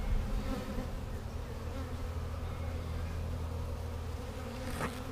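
A honey bee swarm hanging in a tree buzzes in a dense, continuous drone at close range, steady and unbroken, with no voices over it.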